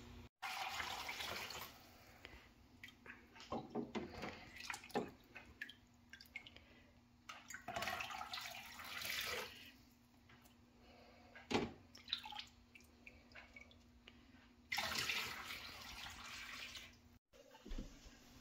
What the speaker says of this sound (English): I'm going to put it through a strainer and into containers.